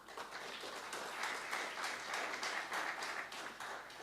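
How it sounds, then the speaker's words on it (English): Steady, faint applause from an audience at a university sport gala, sounding somewhat distant and continuing evenly for the whole stretch. "I think you should give yourself a round of applause"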